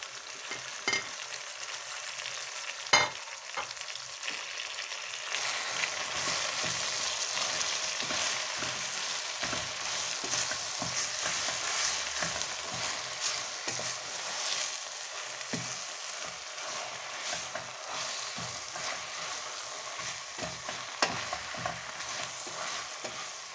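Fresh grape leaves stir and sizzle steadily in a hot pan for a dish with plenty of herbs. A continuous frying hiss runs throughout, broken by a few sharper utensil clicks, with no voices.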